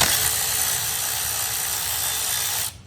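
A ratchet loosens the big bolts on a used 2.0T junkyard engine being prepped for install, giving a steady, fast, buzzing mechanical whir close to the mic that stops abruptly at the end, with no talking.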